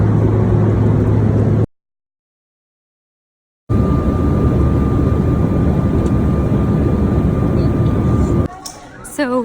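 A loud, steady airplane cabin roar from an airliner landing fills the air, broken by a brief silent dropout, with a faint steady tone on resuming and rustling handling noise at the end.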